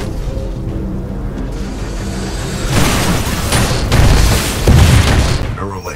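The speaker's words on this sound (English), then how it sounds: "This shoulder-mounted rocket pod will lock onto multiple enemy targets" A shoulder-mounted rocket pod on a Titan in the Titanfall 2 game fires multiple locked-on rockets, giving loud rumbling booms and bursts that swell in waves over a constant low roar.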